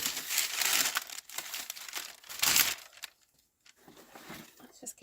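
Greaseproof paper being handled, folded and cut into squares for homemade gifts: close, crisp crinkling and rustling in uneven bursts, with a brief quiet gap before softer handling resumes.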